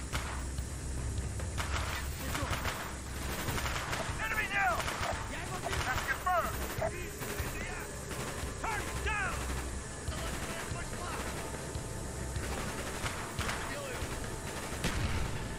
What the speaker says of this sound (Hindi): यहाँ से हैवी गोलीबारी चल रही है